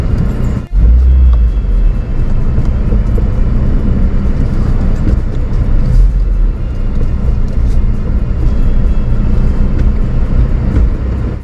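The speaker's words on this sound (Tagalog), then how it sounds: "Nasa loob pa rin po tayo ng sasakyan." Interior road noise from a car cruising in the UK, a loud, continuous low rumble of engine and tyres with a thump near the start, steady throughout with no talking.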